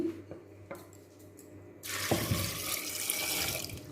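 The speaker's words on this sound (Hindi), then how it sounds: "और इसमें डाल देंगे हम पानी।" After a few light clinks, water starts gushing steadily from a tap into a metal pressure cooker holding chickpeas, a continuous close rushing pour.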